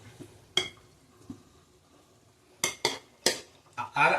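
Half-cooked rice is added to a pot of mutton biryani: a metal spoon or pot clanks sharply a few times, with a soft clatter early and a quick run of clinks toward the end, alongside faint quiet talk.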